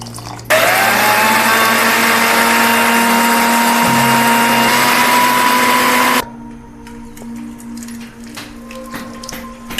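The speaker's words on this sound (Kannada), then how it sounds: "ಮೊದಲು ಅಕ್ಕಿನ ಹಾಕ್ಕೊಂಡು ಚೆನ್ನಾಗಿ ನುಣ್ಣಗೆ ಇದನ್ನು ರುಬ್ಬಿಗಿಟ್ಕೊಳ್ಳೋಣ." A mixer grinder roars loud and close, grinding rice with water into a fine dosa batter. Its motor whines steadily for about six seconds, then cuts off and leaves a quiet room.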